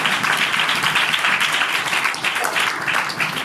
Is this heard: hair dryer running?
no